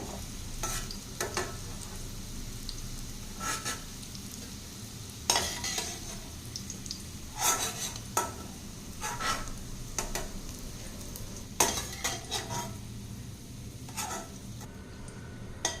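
Bitter gourd slices sautéing in oil for a bitter gourd curry, a steady sizzle broken by repeated scraping stirs of a spoon against the pan, close and fairly loud, with no talking.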